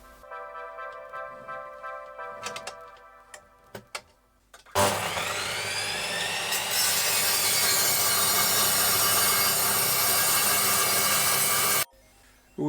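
A power saw cuts wooden crosspieces for a mobile table saw station base, a quiet stretch of handling knocks first, then a loud sustained whine of the blade running through the wood for several seconds before stopping abruptly.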